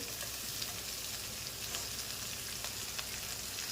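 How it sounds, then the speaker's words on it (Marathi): Bell pepper and carrot fry for hakka noodles with a steady, dense sizzle that holds at an even level throughout, with small crackling pops scattered over it and no voices. "दोन्ही भाज्या सगळ्या भाज्या आपण फ्राय करून घेतो"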